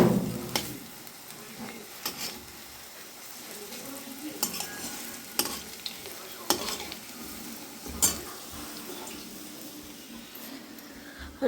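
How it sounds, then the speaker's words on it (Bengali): Besan bora (gram-flour fritters) frying in a pan: a steady, soft sizzle runs throughout, broken by scattered clicks and light clatters. "তো বন্ধুরা এখন এখানে বেসন বড়া হচ্ছে।"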